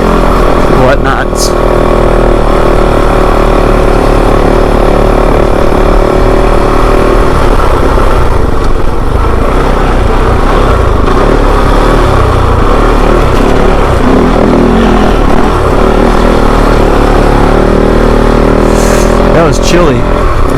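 A Kove 450 Rally motorcycle rips through an Arizona box canyon, its engine droning loud and close the whole way with shifting revs, rough wind buffeting, and a few sharp knocks.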